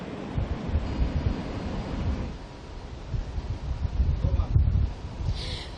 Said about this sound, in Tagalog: makikita nyo yung malakas na alon ngayon